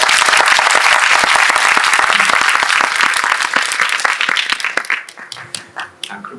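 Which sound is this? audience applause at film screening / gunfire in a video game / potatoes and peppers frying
audience applause at film screening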